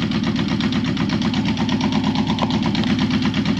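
A 1972 Honda CB350 Four motorcycle, revived after sitting over a year, runs close and loud with a steady, even four-cylinder idle putter and no talking.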